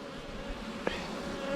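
Honey bees humming in a full, strong hive box, a steady close drone of many wings with one sharper buzz passing by, soft and continuous.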